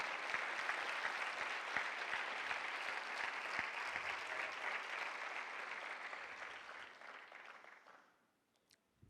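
A church congregation applauds steadily and densely for about eight seconds, then the clapping fades out into near silence.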